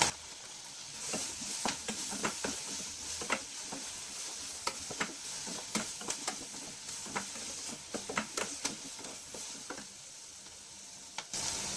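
Ginger and garlic fry in a pan with a steady, quiet sizzle, broken by frequent sharp clicks and scrapes from stirring.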